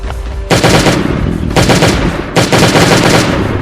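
Bursts of rapid automatic gunfire come from the video game Last Day on Earth: Survival. Three loud, close volleys each last about a second and are separated by brief pauses.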